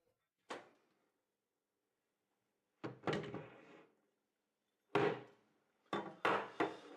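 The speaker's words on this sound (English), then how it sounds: "I can remove the barrel." Shotgun barrel being taken off after unscrewing the tube cover and slightly opening the breech: a few sharp wooden-metal clunks and knocks, spaced apart with silence between, close and clear with no talk.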